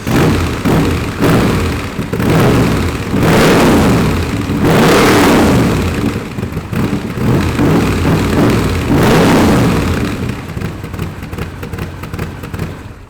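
A Superformance Daytona's engine revs loudly and close by in several rising and falling surges, each swelling to a strong roar before easing back to a rumbling idle.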